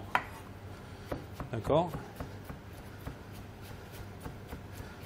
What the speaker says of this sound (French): couper maintenant les courgettes, d'accord, de la même manière que les oignons, hacher grossièrement